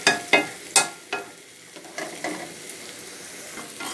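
Small fish and onion fry in a pan with a soft steady sizzle, broken at the start by several sharp scraping stirs of a spatula, then quieter occasional stirring.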